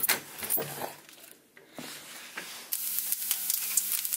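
Turkey bacon fries in a pan with a bright, crackling sizzle, fading briefly before picking up again louder and steadier, with occasional pops and scrapes.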